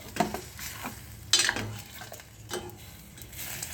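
A pan of Rajasthani junglee maas, a meat curry being roasted with salt just added, is stirred over steady sizzling, with a few sharp scraping bursts of the spoon against the pot.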